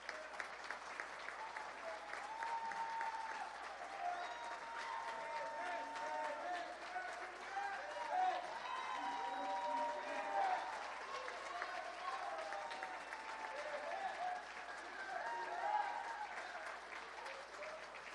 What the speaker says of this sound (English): Let's give him a round of applause as well.